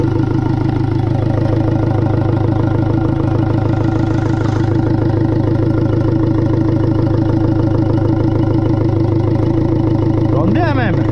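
A Ford Focus mk2 engine runs steadily after starting, a loud, close, even idle with a constant low rumble throughout, while someone talks over it.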